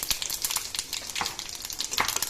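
Whole cumin and five-spice seeds sizzle and crackle in hot oil, a dense close frying hiss with sharp pops for egg curry with spiny gourd, with no talking.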